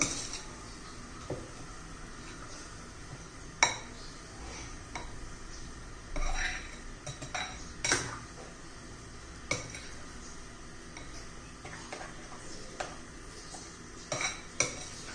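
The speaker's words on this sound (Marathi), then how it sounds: "व्यवस्थित मिक्स करून घेऊया" Rava and besan chilla batter, semolina and gram flour thinned with water, is stirred in a bowl with a spoon, giving close, intermittent scrapes and light clinks against the bowl over a quiet background.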